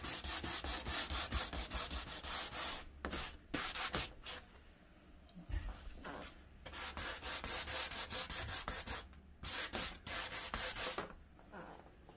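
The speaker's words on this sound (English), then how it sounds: "I'm just trying to scuff it up a little bit." Close, rhythmic rasping of a kitchen countertop being scuffed by hand before an epoxy coat, back-and-forth strokes running steadily with a few brief pauses.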